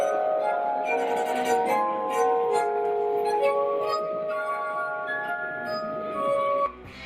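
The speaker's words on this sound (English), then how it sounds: "This simply stunning glass harp creates a hauntingly beautiful sound, just like the heavenly string" A glass harp built from drinking glasses tuned with water rings out in sustained, overlapping pure tones, loud and close, the sound alone and fading at the end.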